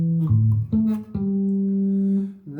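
A minor 7 arpeggio on bass guitar, four deep plucked notes in sequence with the last one ringing out long, close and clear with no talking.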